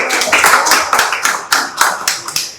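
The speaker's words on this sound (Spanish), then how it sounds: "Aplausos para modelo." A small group claps at a basic CPR training session, a few people nearby clapping at a loose, uneven rhythm, each burst of claps sharp and distinct before fading out.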